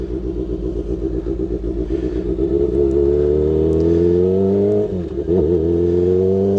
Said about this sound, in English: now we got to do 20 miles an hour in second gear, and we're going to do the braking exercise